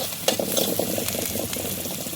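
Onion fries in a pan for a hotel-style mushroom curry, giving a close, steady crackling sizzle with a few stirring scrapes.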